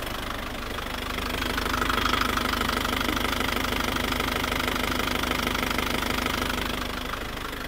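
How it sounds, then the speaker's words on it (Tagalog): Engine knocking recorded from underneath a car with blow-by problems after an overhaul: a steady, rapid metallic ticking knock over a mid-pitched idling engine hum, fairly faint and continuous with no talking. "may katok na po yun"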